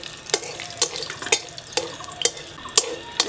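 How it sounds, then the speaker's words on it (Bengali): Cardamom and spices frying in a pan as they are stirred, giving a soft sizzle under a run of sharp, evenly spaced scrapes and clinks from the utensil. Nobody speaks. "দিয়ে একটু নাড়াচাড়া করবো।"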